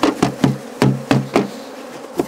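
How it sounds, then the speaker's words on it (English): Honey bees shaken out of a nucleus box during a colony merge, a loud buzzing swarm punctuated by about eight sharp thumps as the box is knocked, each followed by a burst of agitated buzzing. "I'm just gonna shake out the nuke,"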